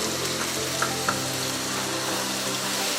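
Chicken with onions, black pepper, white pepper and salt fries in a karahi, giving a loud continuous sizzle up close with occasional scrapes and clinks of stirring.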